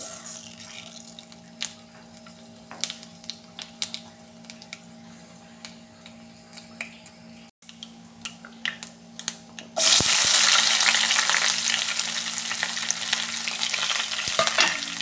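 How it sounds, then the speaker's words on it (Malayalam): Mustard seeds hitting hot coconut oil in a pan: after quiet, sparse clicks and taps, a sudden loud, dense sizzle erupts and keeps crackling and popping steadily to the end. "ഒരു പാൻ വെച്ച് വെളിച്ചെണ്ണ വെച്ചിട്ടുണ്ട് ഇനി അതിലേക്ക് കടുക്"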